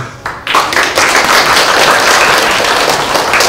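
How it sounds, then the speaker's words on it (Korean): An audience at a comics festival author meet-and-greet in Bucheon starts clapping after a few isolated claps, swelling into continuous, fairly close applause that holds steady to the end. "이제는 박수 안 치셔도 될 것 같고요"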